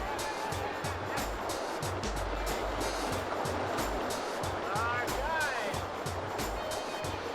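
A rushing river in Costa Rica, its broad steady roar of churning water close by and continuous, with brief splashes and some faint background noise.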